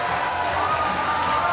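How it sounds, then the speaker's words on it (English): A wrestling event crowd roars in a steady, sustained wash of cheering, filling the space at a constant loud level with no pauses. "Listen to the crowd come alive for Rayo Flores"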